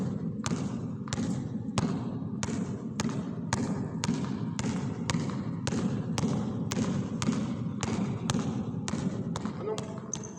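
A basketball is dribbled rhythmically on a hard indoor floor during a youth ball-handling drill, with steady repeated thumps about every half second, close and clear, over a low background hum.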